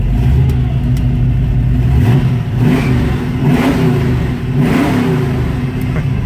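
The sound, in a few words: 1966 Ford Mustang V8 engine revving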